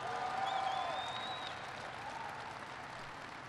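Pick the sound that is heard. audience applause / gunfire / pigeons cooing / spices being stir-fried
audience applause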